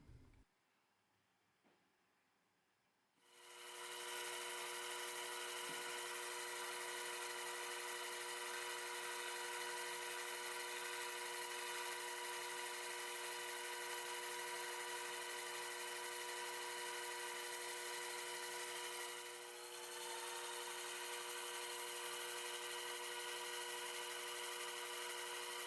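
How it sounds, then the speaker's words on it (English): A small power drill whirs at a steady high pitch after a brief quiet start, drilling holes in a tiny pocket watch wheel, running continuously with one small dip. "now we can use it as a guide to drill the holes in the new wheel"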